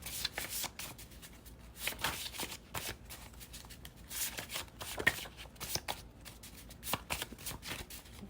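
A tarot card deck is shuffled close up in repeated crisp riffling and slapping bursts of paper flicks, irregular but continuous, with a faint voice underneath.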